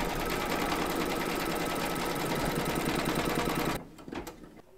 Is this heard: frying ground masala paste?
no